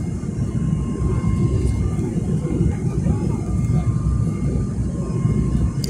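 Steady broadband roar inside an airliner cabin during the landing approach to Sofia from the west, engine and airflow noise continuous and even throughout.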